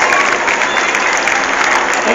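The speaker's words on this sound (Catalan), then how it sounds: "Gràcies per aquests aplaudiments que ens donen" Crowd applauding cyclists arriving at the finish of a Volta race stage in Banyoles, sustained loud clapping from a close crowd, steady and unbroken, with some voices mixed in.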